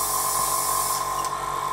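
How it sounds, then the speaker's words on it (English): A continuous hissing spray from an airbrush, close and steady, with a thin whine running through it for a couple of seconds. "I'm just going to give my airbrush a quick swill out"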